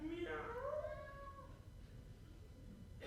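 A pet cat meows from inside a closed box during a live stage play, a drawn-out, slightly muffled rising and falling call heard once near the start, with room noise around it.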